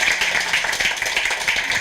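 Clapping from a small audience at the close of a Korean talk on foot health, a steady dense patter of many hands filling the short stretch with no break.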